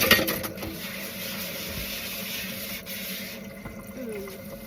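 Water runs from a tap into an RV kitchen sink while dishes are washed and rinsed, a steady hiss that starts with a louder splash and continues at moderate level.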